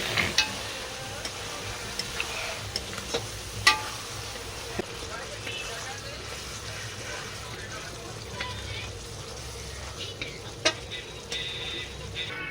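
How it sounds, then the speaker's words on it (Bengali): Onions being browned in oil for a hostel-style chicken curry, a steady close sizzle with scattered scraping and clicking from stirring throughout. "পেঁয়াজ কষা কমপ্লিট হয়ে গেছে।"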